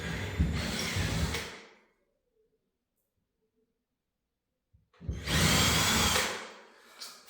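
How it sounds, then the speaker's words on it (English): Two loud bursts of a power drill whirring, separated by a few seconds of near silence. "You still had to drill more than one hole in there?"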